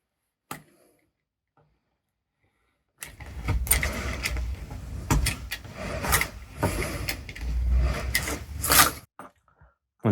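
A knife trims the outer edges of a hollowed miniature base, close scraping and crunching cuts running for several seconds after a quiet pause, with a few brief knocks.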